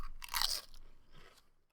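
Kettle-cooked potato chips crunch in one loud, close bite followed by a few fainter chewing crunches, with no talking.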